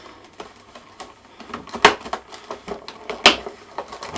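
Cardboard packaging of a Wheeler Engineering torque wrench being opened indoors, with scattered light rustles and small knocks and two sharper tearing or flap-snapping bursts, close and without talk.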